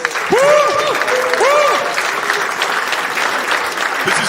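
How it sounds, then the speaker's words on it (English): Audience applause fills a hall at the finale of an investment summit, a steady dense clapping that carries throughout, with a voice briefly heard over it near the start. "let's do a big round of applause for all of those"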